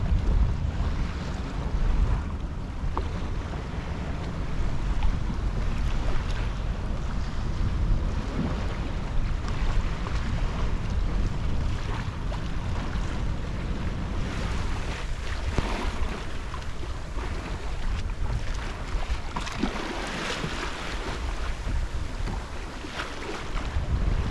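A Cornish Crabber 26 sailing boat crosses the English Channel with steady, loud rushing water against the hull, heavy wind buffeting the microphone and a continuous wash of waves throughout.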